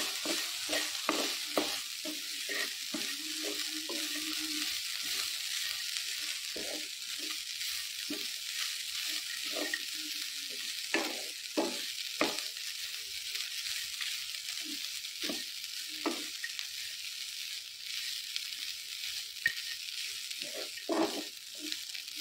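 Beaten rice for avalakki laddu frying and being stirred in a pan, a continuous sizzle with repeated scraping strokes of the spoon, close and steady, no voices.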